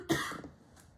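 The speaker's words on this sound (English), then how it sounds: "That was a cough, not a sneeze" A single sharp cough bursts out near the mic, loud and brief, then trails off into quiet room tone with no talking.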